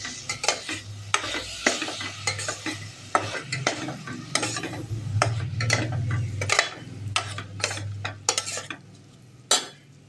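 A vegetable biryani base with yogurt sautés in a pot, with frequent sharp metal spoon clinks and scrapes over a low, steady sizzle, close and busy throughout.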